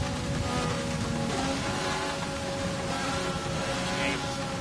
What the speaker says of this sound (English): Feel the rain coming down.